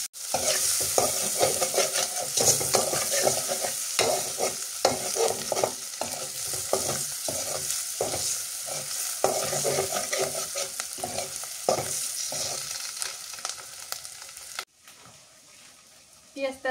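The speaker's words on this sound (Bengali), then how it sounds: "এর মধ্যে দিয়ে দিই পেঁয়াজ কুচি আর রসুন কুচি দিয়ে দিই এবার একটু হালকা করে ভেজে নিয়ে" Chopped onion and garlic frying in oil in a village kitchen, with steady close sizzling broken by repeated stirring scrapes throughout, ending abruptly near the close; faint voice in the background.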